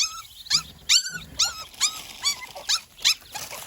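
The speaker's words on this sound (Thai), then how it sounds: "มันห่อนแน่เนาะ" A dog gives a string of rising, whining howls and yelps close by, about eight wavering cries in an uneven rhythm, with low growly undertones between them.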